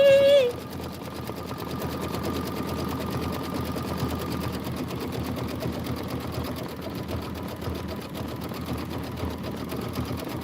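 An embroidery sewing machine stitches a satin outline around a cloud design, its needle chattering in a fast, steady, even rhythm close by for the whole stretch after a brief louder start.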